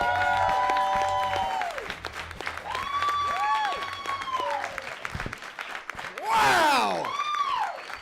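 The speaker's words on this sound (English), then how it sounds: "Please put your hands together for one of my favorite humans" A comedy club audience applauds and cheers a comedian taking the stage, sustained loud clapping with whoops that swell near the end, while a melodic musical sting with sliding tones plays over the crowd.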